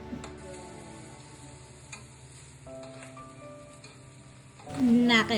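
Catfish frying in a pan before garlic is sautéed, a soft continuous sizzle with stirring clicks, joined by a voice speaking and a louder burst near the end.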